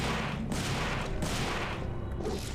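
Rapid gunfire from a video game, a steady, loud stream of overlapping shots with no break, forming a dense continuous crackle from start to finish.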